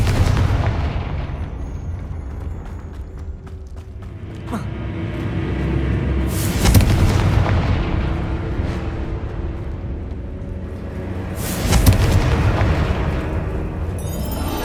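Confringo fire spells explode in the Hogwarts Legacy video game, with two loud, sharp blasts that decay into rumbling over a busy background of game music and effects.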